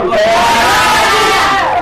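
Children in an Indonesian primary classroom loudly chanting the 'tepuk hebat' clap-chant in unison, a brief, close burst of young voices.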